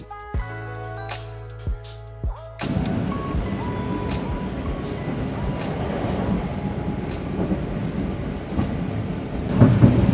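Inside the Majapahit New Generation stainless steel economy passenger train while riding: a steady rumble of wheels and carriage noise builds after a few quiet tones, continuing loud with rattles to the end.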